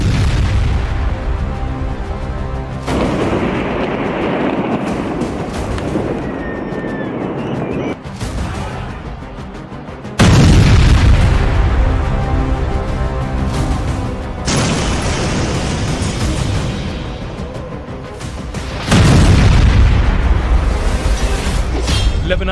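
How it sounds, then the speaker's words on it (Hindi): Israeli strikes on Hezbollah positions in Lebanon set off a series of heavy, rumbling booms, several loud blasts spaced seconds apart with long rolling decay, and no voices. "लेबनान पर इजराइल का डबल अटैक। हिजबुल्लाह के ठिकानों पर फिर बरसा बारूद।"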